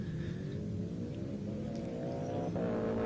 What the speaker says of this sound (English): Beautiful V8.